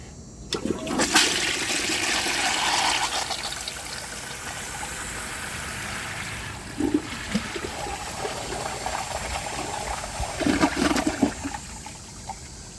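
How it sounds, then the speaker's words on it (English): A 1934 Bowers Pottery toilet flushes nearby with a gushing rush of water. Bursts of gurgling and trickling follow as the tank refills, and they fade and return unevenly. "I'm going to wait for the tank to refill, and then I'm going to give it another flush."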